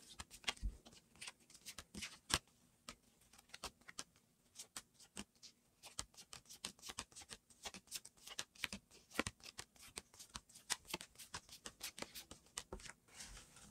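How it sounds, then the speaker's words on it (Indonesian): New tarot cards are separated by hand, giving a long run of crisp, irregular card flicks and snaps, close and fairly quiet, with no voices. "lo akan bisa misahin kartu satu sama lainnya"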